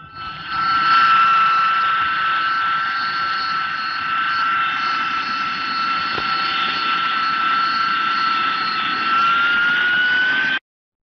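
An Air India passenger plane arrives with a steady, loud jet engine whine holding a sustained high tone for about ten seconds before cutting off abruptly.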